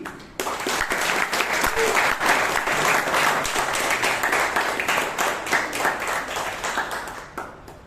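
A Toastmasters club meeting audience in Bangalore gives a loud, sustained round of applause, dense clapping holding steady for several seconds before tapering off at the end.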